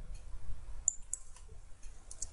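A computer mouse clicks several times, quietly and close, with a few sharp separate clicks spaced irregularly over faint background hiss.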